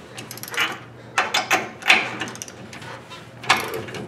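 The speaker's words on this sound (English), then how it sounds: "Torquing new bolts." A ratchet wrench torques new leaf spring bolts on a Dodge Ram 2500 Cummins pickup, close by in several short spurts of rapid clicking separated by brief pauses.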